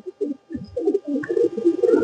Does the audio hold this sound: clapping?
no